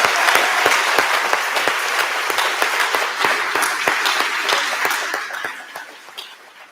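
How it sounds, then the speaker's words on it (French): A congregation in a Protestant temple in Crest applauds the organiser of a synod service, a full burst of clapping from many hands that stays strong, then gradually thins and fades toward the end. "on peut l'applaudir"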